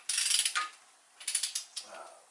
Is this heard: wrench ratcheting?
yes